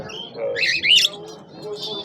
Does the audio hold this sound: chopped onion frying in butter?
no